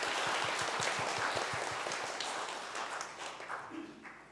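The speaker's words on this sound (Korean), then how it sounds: "하나님 앞에 영광의 박수 올려드리겠습니다." A church congregation applauds during a Sunday afternoon service, a moderate, fairly even round of clapping with rhythmic claps standing out that gradually thins and fades.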